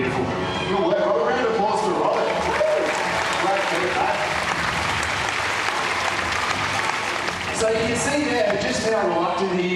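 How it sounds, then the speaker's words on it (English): Audience applause at an Australia Zoo animal show, a steady, dense clapping from a crowd that fills the whole stretch at close range, with voices mixed faintly into it. "Round of applause for Robert."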